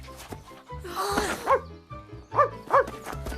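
A dog barks several times in short, loud yips and woofs amid a cartoon soundtrack with background music, the barks clustered in two bursts.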